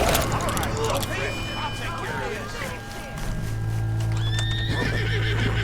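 A horse in a video game whinnies loudly over steady hoofbeats and busy game background noise, with a second neigh rising toward the end.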